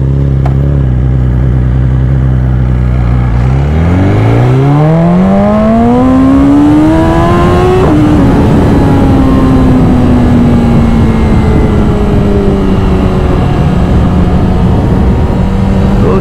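A motorcycle out on a Sunday road ride pulls away, its engine climbing steadily in pitch before easing into a loud, close, continuous drone with heavy wind rush.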